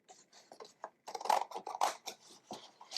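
Scissors snip out a handmade mixed-media artist trading card in a run of short, close cutting and rasping strokes with small pauses between them.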